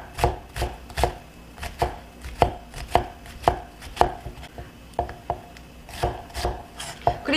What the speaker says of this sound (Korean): 남은 양파는요, 그냥 잘게 다시 한번 썰어주시면 돼요